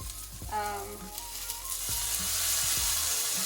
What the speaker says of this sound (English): We throw in the garlic and we start adding the other